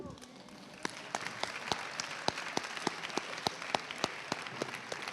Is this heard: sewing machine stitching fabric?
no